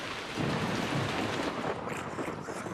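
A steady, loud rumble of thunder rolling through a storm, with broadband noise like heavy rain filling the background throughout.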